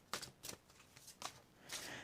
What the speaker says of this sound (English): These cards are so huge, I cannot shuffle them the normal way.